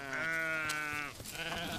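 Sheep bleating loudly and close on a spring pasture at an open-air museum farm, one long wavering bleat followed by shorter overlapping calls from the flock.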